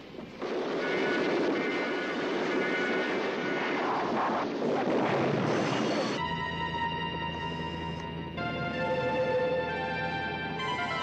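Loud roaring helicopter engine noise that shifts partway through into a steadier droning tone, with no talking.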